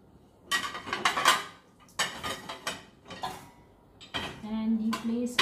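Dishes, pots and cutlery clatter and clink as they are set into the racks of a dishwasher. The impacts come up close in several uneven bursts, with short pauses between them and a faint tonal hum near the end.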